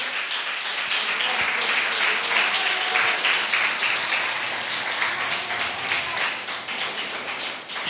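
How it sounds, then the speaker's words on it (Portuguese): A church congregation at a family worship service claps together, a steady, dense wash of applause close and loud that holds evenly for several seconds, with a few sharper taps standing out. "Pode aplaudir Jesus."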